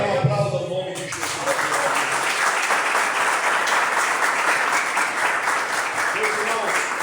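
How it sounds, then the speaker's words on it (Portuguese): A church congregation breaks into loud applause after a brief stretch of a preacher's amplified voice, the clapping swelling quickly and holding steady, dense and close. "Então aplauda o nome de Jesus"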